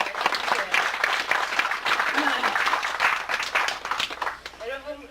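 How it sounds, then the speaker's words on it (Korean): An audience at a Buddhist dharma service in a temple hall claps in a warm, continuous round of applause, with a speaking voice rising just as the clapping ends. "그러시면 큰 박수로 말씀주세요"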